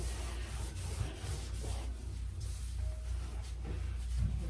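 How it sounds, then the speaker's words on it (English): Steady scrubbing of a surface during a household deep clean, a continuous close rubbing sound with no talking. "So you gotta scrub this down real good."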